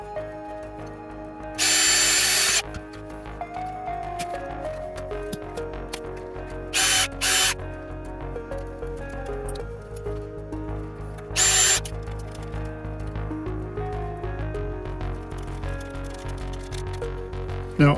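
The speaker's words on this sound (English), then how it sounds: "So you just drill a couple holes here" A power drill whirs in several short bursts of a second or so each, drilling holes in plastic for a Tamiya Grasshopper 2 model kit, separated by quieter pauses with faint handling noise.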